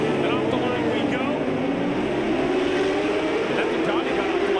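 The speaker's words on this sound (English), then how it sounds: "Supersport race number 2 in the rain, and revs are up. And off the line we go." Supersport race motorcycles rev and launch off the start line in the rain at Road Atlanta, a dense, continuous engine roar with rising pitch sweeps as the pack pulls away, with a commentator talking over it.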